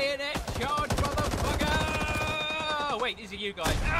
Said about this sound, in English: that is an intense explosion very close to you